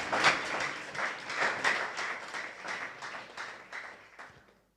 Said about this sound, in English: Please, one more round of applause for mbunge aliye parara.